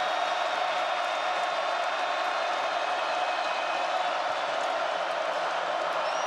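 A packed basketball arena crowd at Purdue fills the air with a loud, continuous roar and mixed cheering, sustained evenly without breaks.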